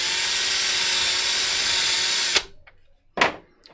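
A power drill runs with a steady close whine for a couple of seconds, bit in the workpiece, then stops, followed by a short second burst.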